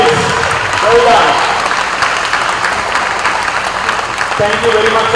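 Applause from the audience at a karate encounter, a dense crowd clapping throughout at steady loudness, with voices and announcer talk audible at the start and end.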